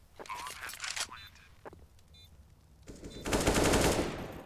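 Rapid gunfire in Counter-Strike on the Nuke map comes in short sharp bursts, with a louder sustained spray near the end, under esports commentary.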